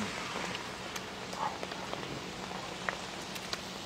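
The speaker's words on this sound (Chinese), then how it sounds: "因为现在下雨了，真没办法。" Rain falls outdoors at a street lamb-skewer stall in Hefei, a steady faint patter spread across the scene with occasional sharper drops and small knocks, with no speech heard.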